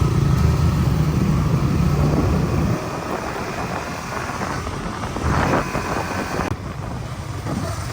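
Motorcycles ride in a group from Thanchi in Bandarban with a steady engine drone blended with heavy wind rush on the microphone. The pitch shifts slightly partway through, and no one speaks.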